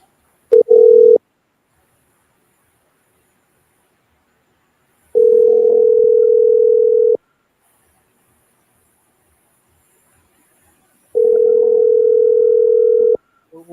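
Ringback tone of an outgoing telephone call: three steady, loud buzzing tones, one short and two about two seconds long, separated by silent gaps of roughly four seconds, with no talking.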